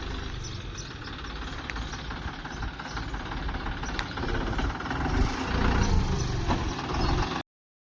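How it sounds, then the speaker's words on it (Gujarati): A tractor and loader engine runs steadily on a farm during manure loading, a continuous low rumble that swells slightly louder toward the end, with no talk. "ટ્રેક્ટર પણ આવી ગયું છે લોડર પણ આવી ગયું છે"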